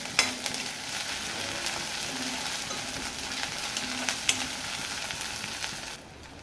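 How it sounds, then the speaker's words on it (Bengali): Onions with ginger and garlic sizzle steadily in a pan for a hilsa and eggplant curry, with intermittent stirring scrapes over a constant frying hiss and no talking. "আদা রসুনটা ভালটারে আমি পেঁয়াজের সাথে নেড়ে চেড়ে নেবো।"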